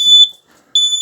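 A smoke detector alarm, fault after a workman's repair and not reset by its button, sounds two loud, piercing, steady electronic beeps separated by a short silence, close and with no voices.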